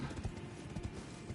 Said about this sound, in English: can I summon my horse again?